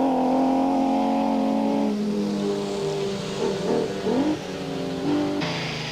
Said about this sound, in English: This is the only BMW currently competing in the National Rally Championship.